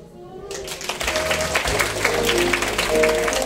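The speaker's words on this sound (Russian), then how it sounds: "Аплодисменты всем участникам конкурса успеха!" Audience applause for participants of a teachers' contest at a children's creativity palace in Anadyr, a steady dense clapping that swells slightly and continues with voices mixed in underneath.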